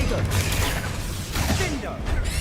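Spell-casting combat in Hogwarts Legacy fills the scene with dense, continuous blasts, whooshes and impacts, loud and layered, with a voice talking over the effects.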